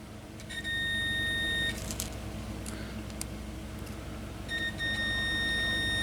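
A multimeter's continuity buzzer sounds two sustained electronic beeps, each over a second long and separated by a quiet gap, as test leads touch while checking the oil pressure warning wiring on a farm machine.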